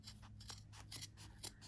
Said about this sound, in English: So I'm cutting this piece with my paper scissors